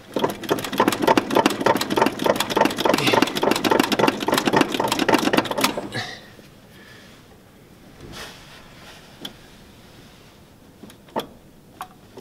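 1969 Ford F-250 carbureted truck engine running close and loud with a rapid, uneven rhythmic chug for about six seconds, then cutting off, leaving faint clicks and knocks.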